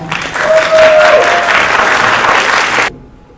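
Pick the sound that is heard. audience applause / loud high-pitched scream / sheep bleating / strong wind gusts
audience applause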